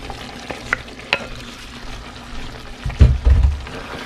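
Potatoes going into a pan of steak in green salsa, with soft scraping stirs and light clinks followed by a louder sizzling rush and low bubbling as they land in the hot sauce, close and without talk.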